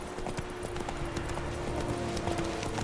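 Roach, a horse in The Witcher 3 video game, clip-clops along in a steady hoof rhythm, moderately near, over a constant low ambient hum, with no talking.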